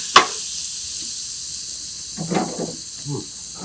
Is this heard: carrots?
yes